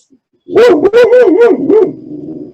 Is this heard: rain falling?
no